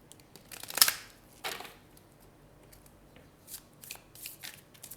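Tarot cards being shuffled by hand in a quiet room, producing a few soft riffling bursts and scattered light flicks and taps, with no talking.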